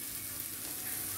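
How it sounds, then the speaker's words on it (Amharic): Chopped onions fry in hot oil in a pan as the base of an Ethiopian stew, giving off a soft, steady sizzle that continues unbroken, with no talking. "ጠብሰዋለሁ ማለት ነው።"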